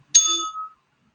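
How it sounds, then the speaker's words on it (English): A meditation bell is struck once during a guided breathing session, giving a bright, clean ding that rings out and fades over about half a second into silence, with no talking over it. "listen as I ring the bell"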